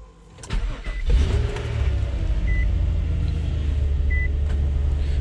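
Nissan Maxima engine cranking and catching with a working key, a short start-up burst followed by a steady, loud idle rumble close by, with no talking.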